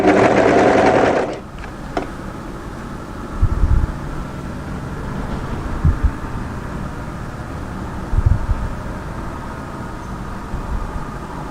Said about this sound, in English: go ahead and overlock that shoulder seam